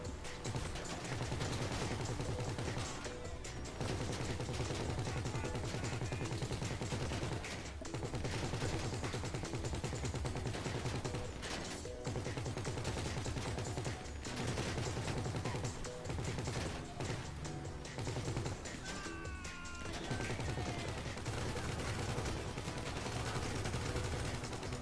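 Continuous gunfire from the gunner in a GTA heist mission: dense, rattling automatic bursts layered over loud in-game engine rumble and explosions, steady and busy throughout with no clear pauses.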